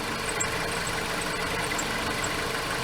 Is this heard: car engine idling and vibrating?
yes